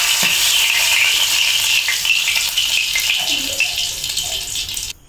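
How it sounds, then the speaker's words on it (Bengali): Hilsa fish tail frying in hot oil in a pan gives a loud, steady sizzle throughout, with some stirring and rattling, before the sound cuts off near the end. "এক সাইড ভাজা হয়ে গিয়েছে, এবার উল্টিয়ে দিব"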